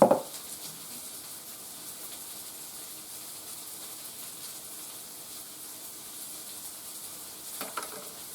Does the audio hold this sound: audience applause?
no